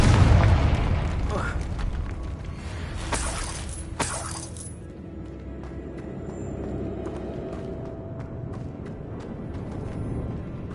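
The Confringo blasting curse goes off in Hogwarts Legacy with a booming explosion followed by sharp shattering bursts and falling debris, then settles into a quieter ambience.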